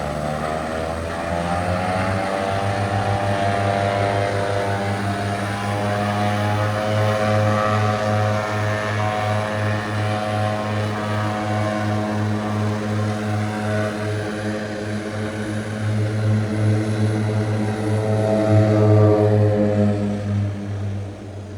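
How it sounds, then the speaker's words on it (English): Small propeller plane taking off from the very short mountain runway at Lukla on the Everest trek, a loud steady engine drone with strong harmonic tones that holds close throughout and swells slightly near the end. "Watch the flight taking off from the short runway."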